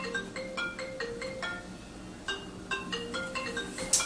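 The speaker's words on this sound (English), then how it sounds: "Whose phone is that?" A phone rings with a repeating electronic ringtone, bursts of tones in a steady pattern, pausing briefly midway before resuming, fairly faint and alone.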